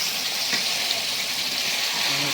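Potatoes fry with spices in a pan, giving a steady, close hiss of sizzling oil with faint stirring scrapes throughout, no voices.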